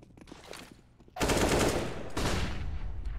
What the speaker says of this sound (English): wins a huge fight, spray transfer on Eminek